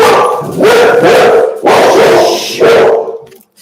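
A dog barks loudly and close in three long, harsh bursts with whimpering yips between them, indoors while someone is at the door, with no talk over it.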